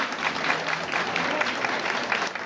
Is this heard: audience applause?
yes